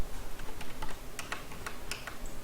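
Keys tapped on a computer keyboard while entering values during a Rhino 3D modelling lesson, a quiet, irregular scatter of soft clicks over a faint background hiss with no talking.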